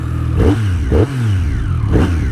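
A 2016 Triumph Street Triple motorcycle engine turns over and revs up, its pitch rising and falling in a few loud, close bursts before settling into a rumbling idle.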